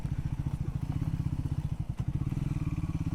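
A Triumph Scrambler 400X motorcycle rides an off-road patch, its single-cylinder engine thumping in a loud, rapid, even pulse throughout, heard close from the rider's position with faint rattles over the rough ground.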